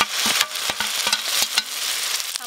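Boiled, ground pointed gourd paste fries in a pan while a spatula stirs it repeatedly, giving a steady close sizzle broken by irregular scraping knocks of the utensil against the pan.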